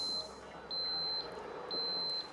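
An OLAS tag not yet connected gives three short, evenly spaced high electronic beeps over a low background hum.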